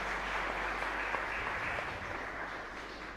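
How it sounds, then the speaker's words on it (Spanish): Congregation applauding inside a church chapel during Mass, a soft, steady wash of clapping heard at a distance with room echo. "También un aplauso para ellos."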